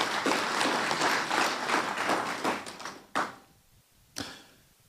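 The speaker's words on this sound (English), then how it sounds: "Please appreciate them with another big round of applause" Audience applause in a public account committee hall, dense clapping from a crowd for about three seconds that thins out and fades, followed by a few isolated claps and knocks in the quiet room.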